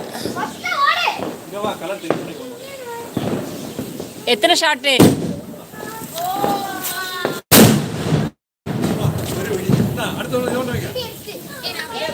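Diwali firecrackers go off amid a festive crowd, with sharp bursts and crackling pops scattered through lively chatter and children's shouts, one loud blast near the middle followed by a brief dropout.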